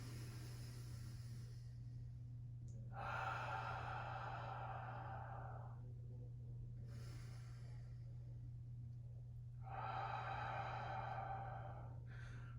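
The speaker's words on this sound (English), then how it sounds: "Couple of deep breaths to cool down." Two slow, deep breaths taken to cool down after a mat workout, each a long, soft rush of air a few seconds apart, heard close and quiet over a low steady hum.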